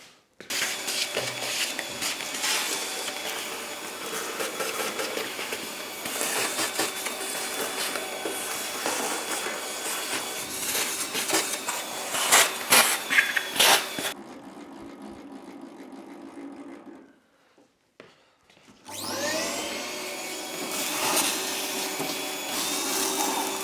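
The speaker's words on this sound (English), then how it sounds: "I want to get all the chippings and sawdust out of absolutely everywhere" A workshop vacuum cleaner roars steadily while sucking chippings and sawdust out of a woodworking thicknesser, cuts out for a few seconds of near silence, then starts up again, loud and close with no talking.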